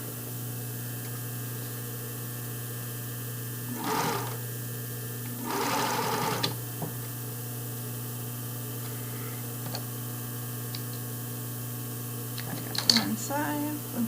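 A sewing machine joins lace panty pieces with a seam, a steady low motor hum with a few brief, louder stitching bursts, close by and without talk.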